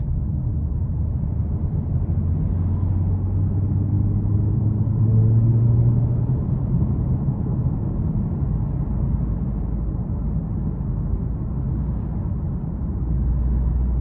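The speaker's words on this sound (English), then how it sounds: "the exhaust sound is just spectacular" A steady, low exhaust drone rumbles from a 2021 Toyota Avalon TRD cruising at an even pace, with a deep throaty tone that holds constant throughout and no voices.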